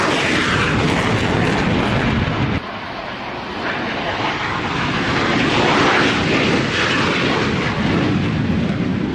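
French jet aircraft roar past during the Ramex Delta air display, a loud, continuous engine rumble that fills the whole stretch with a slight dip partway through and no pause.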